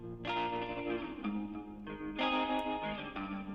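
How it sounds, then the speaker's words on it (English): Electric guitar chords played through a modelled Brigade Chorus analog pedal plugin switched on, giving a wide, shimmering, modulated tone with several strums and sustained ringing, loud and alone in the mix with no talk. "Brigade Chorus, really brilliant classic analog pedal that they modelled"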